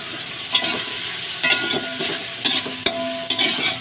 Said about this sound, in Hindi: इसको फ्राई कर लेंगे